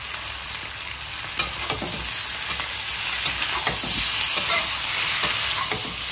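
Pork frying with tenga mora sour greens in a pan, a loud steady sizzle filling the scene with scattered sharp clicks of stirring.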